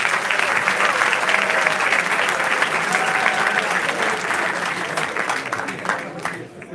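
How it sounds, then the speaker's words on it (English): An audience at a business school event claps in a sustained, dense round of applause that gradually tapers off toward the end, with faint voices mixed in. "So big clap."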